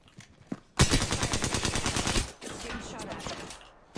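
Rapid automatic gunfire in Apex Legends bursts out loud and close, a dense rattle of shots lasting over a second before trailing into scattered fainter shots, with no talk over it.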